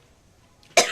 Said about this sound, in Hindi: जैसे ही बोलती हूँ ना तो तुरंत खांसी आती है